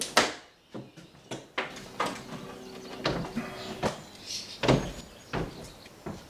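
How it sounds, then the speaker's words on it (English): Old exterior door trim is pried off with a chisel and pry bar, producing close cracking, creaking and knocking bursts of wood and nails coming loose in an uneven rhythm. "So just pry it off. I'm using an old chisel, a pry bar, anything you can to get it off."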